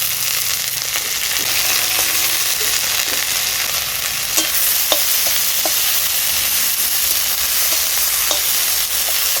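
Dhenki shak greens frying with golden onions in a pan: loud, continuous close-up sizzle with occasional spatula scrapes and taps, no talking.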